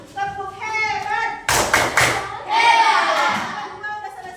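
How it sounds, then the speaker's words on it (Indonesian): A class group performs the rhythmic 'tepuk hebat' clapping cheer, a few sharp synchronized claps and thumps in a quick pattern between children's chanting voices and talk. "Ayo lu tepuk hebat lagi sama kelompok 1"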